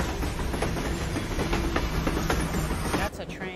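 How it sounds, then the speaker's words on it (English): A train in Persona 4 Golden rattles past with a steady clickety-clack of wheels over rails and a hissing rush, fairly loud throughout, easing off near the end; a voice speaks faintly underneath. "That's a train."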